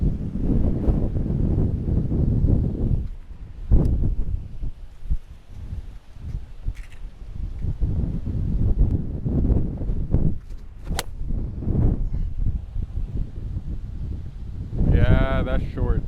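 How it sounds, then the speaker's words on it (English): Strong wind buffets the microphone on a golf course at Royal Westmorland, loud gusting rumble rising and falling throughout, with voices talking over it in places. "It's a lot of wind."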